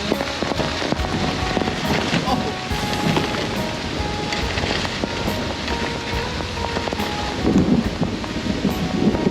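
Very heavy rain pours steadily on a road journey between villages in Laos, a dense continuous roar with occasional sharper impacts, close and enveloping throughout.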